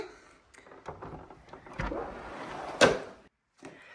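An indoor door into the dining room of a Scottish Highlands holiday rental swings open with a soft creak and scraping, ending in a sharp close-by thud of the latch or handle.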